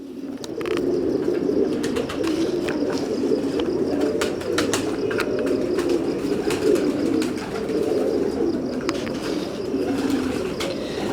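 Rampuri cross pigeons coo in a low, continuous, overlapping murmur close by, with scattered clicks and light wing flutters throughout.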